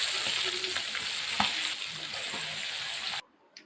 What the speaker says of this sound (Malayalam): ഓരോ പീസസ് ആയിട്ട് ഞാൻ എണ്ണയിലേക്ക് ഇട്ട് കൊടുക്കുകയാണ്.